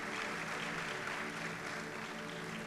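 Church audience at a 105th anniversary bhajan evening in Pune applauding tabla player Adesh Dethe, steady dense clapping filling the whole moment at moderate distance, fairly quiet overall.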